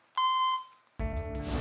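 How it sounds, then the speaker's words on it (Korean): After an unanswered phone call, a voicemail beep sounds: a clean, steady electronic tone lasting about half a second, followed by a short silence and then a burst of noisy sound. "고객이 전화를 받지 않아 삐 소리 이후 음성 사상으로 연결됩니다"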